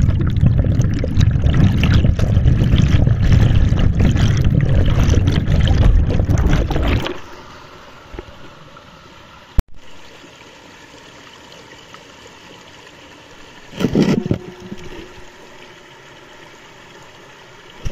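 Flowing stream in Ifugao, Philippines, rushing loudly and close for several seconds, then dropping to a faint, distant background murmur with one brief splashing surge later.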